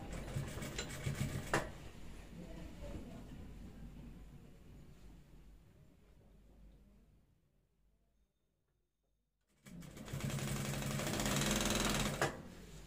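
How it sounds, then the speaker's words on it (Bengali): Sewing machine stitching a girls' school belt: dense, steady mechanical whirring runs for about six seconds, fades into near silence, then a loud burst of stitching resumes near the end. "এভাবে সেলাই দিবেন"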